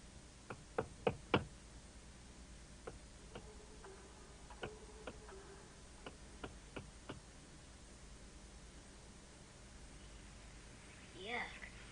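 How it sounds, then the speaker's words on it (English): Knocking on walls as a spooky sound effect: a quick cluster of four sharp raps, then slower scattered single knocks, fairly crisp over a quiet hiss, with a short rising eerie tone near the end. "Why did he keep knocking on the walls?"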